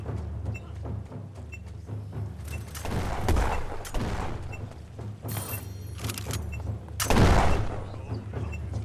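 Sniper rifle fire in the video game Venge: two sharp, loud shots ring out a couple of seconds apart over a busy bed of game noise and rumble, with no talking.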